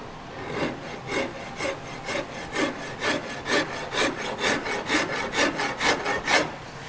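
A hand rasp rounds a wooden bass guitar neck in rhythmic back-and-forth strokes, each a close, coarse scraping rasp, about three strokes every two seconds, steady and unaccompanied.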